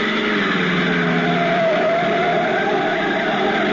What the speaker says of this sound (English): a black sedan twists up the curving mountain road leading to the inland plantation country of Puerto Rico